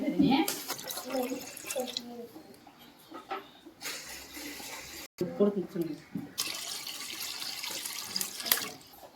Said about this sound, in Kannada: ಅದ್ರಾಗ ಈ ಚೊಂಬಿಲಿ ಮೂರು ಚೊಂಬು ನೀರು ಹಾಕಿ